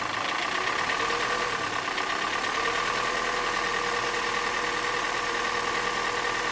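A Hyundai Elantra with a stalling problem idles just after being started, a steady continuous engine drone with a faint high whine, unchanging throughout and without talk over it.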